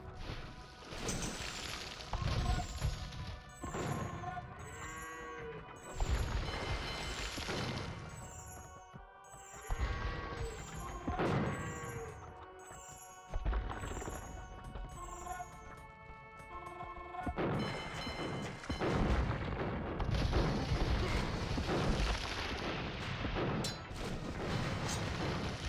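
Demolition ships blow up in a real-time strategy battle, with repeated heavy booms and crashes over dense, continuous combat noise and clattering gunfire-like bursts, loud throughout.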